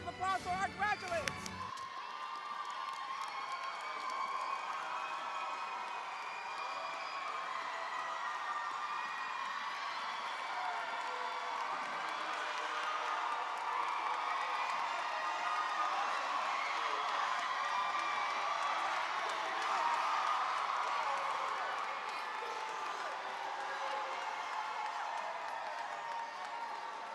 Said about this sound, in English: Let's give a round of applause for our graduates.